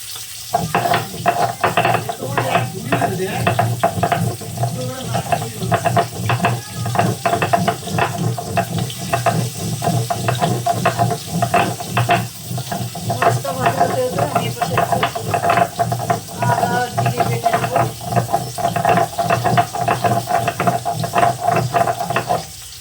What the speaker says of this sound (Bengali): দিয়ে দিলাম মাছটা মাছটাও সুন্দর করে ভেজে নেবো